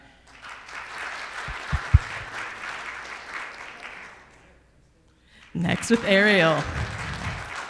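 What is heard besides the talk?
applause voting for ugliest Christmas sweater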